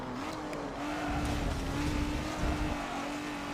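Simulated race car from the game Forza, a 661-horsepower track car, revving steadily at close range with a sustained engine drone and rising intensity, tire squeal faintly mixed in.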